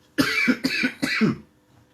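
Three quick, harsh coughs close to the microphone, one right after another, followed by silence.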